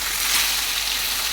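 Small kuttiyanjal fish fry in hot oil in a pan, giving a steady, dense hiss and sizzle that stays loud and even, with no talking.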